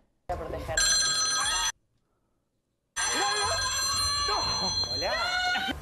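A telephone bell rings in loud bursts, breaks off into silence, then rings again while people talk over it, on the Gran Hermano 2024 reality show.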